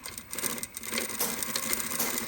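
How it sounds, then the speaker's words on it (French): A sewing machine runs a straight stitch on a fabric face mask, whirring in a short, uneven burst up close with a faint mechanical clatter and no talking. "Ici, je n'ai pas de zigzag, donc je suis obligée de prendre un point droit. Donc, je vais faire un point droit."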